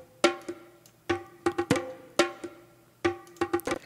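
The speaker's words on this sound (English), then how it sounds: "Kind of like a crazy cool little bongo loop." A crazy little bongo loop from a house remix plays alone: sharp, ringing hand-drum hits in an uneven, syncopated pattern, some struck in quick pairs, loud and close.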